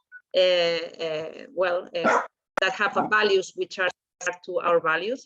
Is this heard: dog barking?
yes